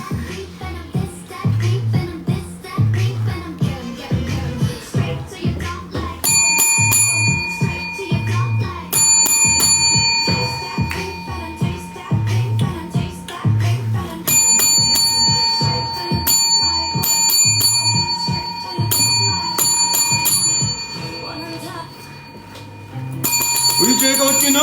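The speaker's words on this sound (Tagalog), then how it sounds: "Yung bell." A bell rings in repeated bursts during a live selling stream, bright metallic chimes coming several times over continuous talking and background music.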